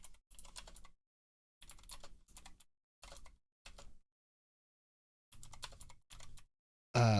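Computer keyboard typing in several short, close bursts of rapid key clicks separated by silent pauses, ending in a louder thump.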